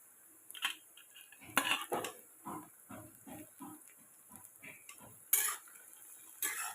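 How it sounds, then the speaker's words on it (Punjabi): A utensil stirs capsicum and carrot with onion in a frying pan: soft, irregular scrapes and metallic clinks against the pan, with a couple of sharper knocks and a faint sizzle underneath. "ਇਹਨੂੰ ਵੀ ਮਿਕਸ ਕਰ ਦਿੰਨੇ ਆ ਤੇ ਇਹਨੂੰ ਵੀ ਹਲਕਾ ਜਿਹਾ ਫਰਾਈ ਕਰਦੇ ਆ"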